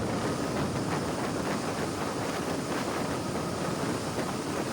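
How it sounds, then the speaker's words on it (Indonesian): Steady, loud rumble of a train running through a tunnel, a dense echoing roar with a wind-like rush that holds constant without a break. "Di balik dinding gelap itu, gema laju kereta terdengar menggema"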